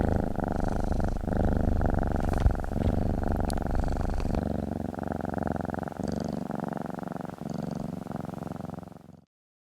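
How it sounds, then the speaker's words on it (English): A domestic cat's solicitation purr, higher pitched, rapid and loud, rumbles steadily and close for almost ten seconds with a regular pulsing rhythm, then stops abruptly. "And the solicitation purr."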